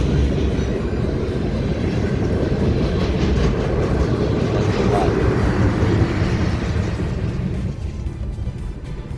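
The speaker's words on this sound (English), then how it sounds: "Look at this train anyway" A train rolls past on the tracks nearby with a steady, loud rumble and rail noise that continues throughout before easing slightly at the end.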